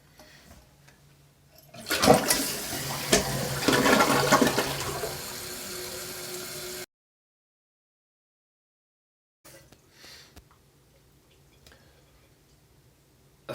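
A newly installed toilet flushes with a loud close rush of water lasting several seconds, then cuts off into silence, followed by faint refilling trickles.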